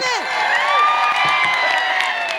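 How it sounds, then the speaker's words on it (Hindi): An audience at a live comedy stage show bursts into loud sustained cheering, whooping and clapping, a dense crowd roar with shouting voices throughout. "अरे जोरदार ताली, हाथ के टूट ताली"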